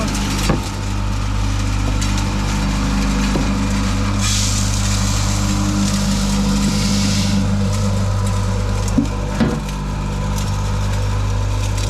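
A 220-volt crusher grinds and crushes material with a constant loud mechanical roar and a low droning hum, broken by occasional sharp knocks.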